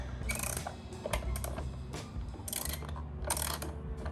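Air box screws on a Volkswagen Passat 1.8 TSI being backed out with a T25 Torx driver: close, irregular mechanical clicking and ratcheting in short bursts, with no talking.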